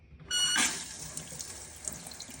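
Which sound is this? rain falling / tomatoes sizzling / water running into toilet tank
water running into toilet tank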